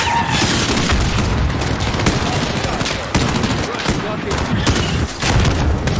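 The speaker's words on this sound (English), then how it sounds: "Missile out." Missile strike explosions and gunfire in Call of Duty Modern Warfare, with repeated booms and crackling bursts of fire that keep the whole stretch loud and dense, and players talking over the battle.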